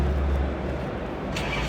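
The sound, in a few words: racy classic car engine revving at a car show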